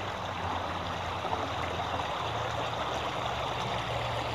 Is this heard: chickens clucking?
no